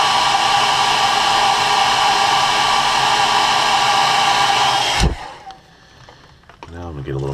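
A hair dryer heat-setting fresh paint on a walleye-pattern crankbait fishing lure blows as a loud, steady roar for about five seconds, then cuts off abruptly, leaving faint handling noises.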